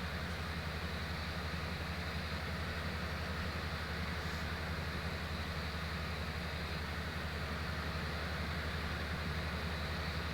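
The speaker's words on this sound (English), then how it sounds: "There goes the train again." A train rumbles past steadily in a farming video game, a constant low mechanical drone and rolling hum that stays even and fairly close for the whole stretch, with no talking.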